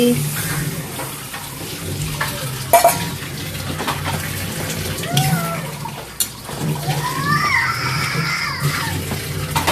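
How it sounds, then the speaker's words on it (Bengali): Cooking broth being poured into fried fish in a pan, a splashing, running liquid sound among clinks of utensils and pot, with a voice speaking over parts of it. "মাছটা কষানো হয়ে গিয়েছে, এখন রান্নার ঝোল দিয়ে দিচ্ছি।"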